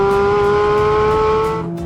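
A Porsche road car running the same engine as its race car gives a steady, loud engine drone that holds an even pitch close by, then eases off at the end.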